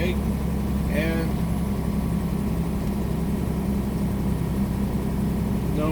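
A semi truck rolls downhill in 9th gear at about 1,400 RPM with the Jake brake fully on, giving a low, steady engine rumble and drone inside the cab, while faint chirpy tones rise briefly over it.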